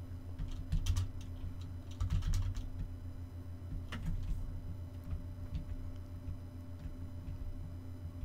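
Computer keyboard keys pressed in short irregular bursts of clicks, faint and close over a constant low electrical hum, with no talking.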